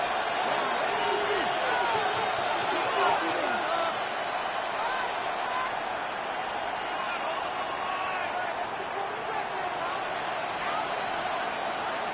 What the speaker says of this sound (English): The crowd at MetLife on their feet